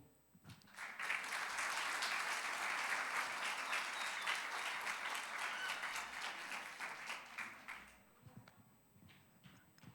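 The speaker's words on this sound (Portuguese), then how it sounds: "Aplauda ao Senhor." A church congregation claps steadily for several seconds during a worship service, the dense applause swelling quickly, holding, then thinning out into scattered claps.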